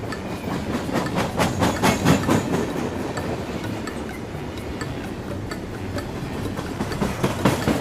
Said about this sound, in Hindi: तभी दोनों ट्रेन उस गड्ढे को पार करते हुए पटरी पर जाने लगी।